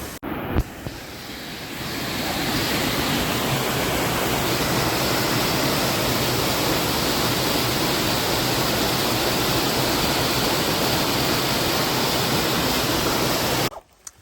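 Natural stream water rushes in Patagonia, a loud, dense broadband flow that swells in after a couple of seconds, holds steadily and cuts off near the end, with no voices.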